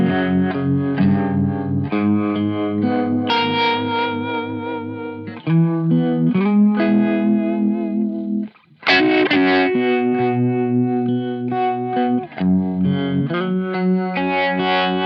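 Electric guitar played through a univibe-style effect for a Hendrix-like tone, with distorted, swirling chords and sustained notes played steadily and loud, broken by a brief pause near the middle, no talking.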